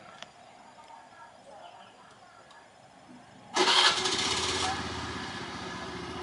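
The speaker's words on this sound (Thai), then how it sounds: "เดี๋ยวผมจะกดสตาร์ทที่รีโมทให้ดูเนาะในน้ำเลย" A Honda Click 110i scooter fitted with a waterproof remote alarm starts up after a quiet stretch, the engine catching abruptly and settling into a loud, steady idle close by.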